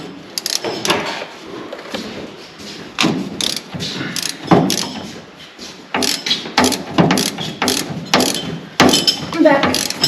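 A ratchet socket wrench loosening a bolt on the front end of a dirt track race car, loud close bursts of rapid clicking ratchet strokes that repeat in uneven runs with brief pauses, and some faint talk underneath.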